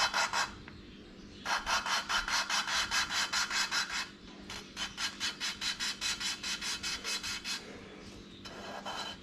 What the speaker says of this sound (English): it goes really crunchy, and then it'll go, it'll start quietening down when the compound starts wearing out a little bit.